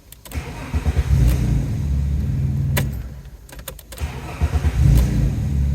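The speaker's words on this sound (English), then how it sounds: "So let's start it up again" An Alfa Romeo GTV V6 Cup Limited Edition engine cranks and catches, idles with a low rumble, then is cranked and started again, with a brief metallic jingle of keys.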